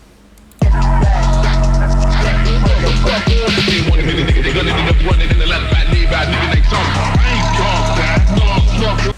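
A loud phonk beat with booming 808 bass slides and heavy drums drives steadily under vocals crushed by a Camel Crusher distortion plugin, EQ'd and soaked in delay, dense and saturated throughout.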